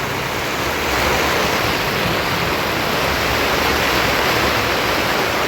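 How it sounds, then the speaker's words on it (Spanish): Loud, unbroken hiss of heavy rain pours steadily throughout, with no talking, in Ecatepec, Mexico. "Y no para de llover."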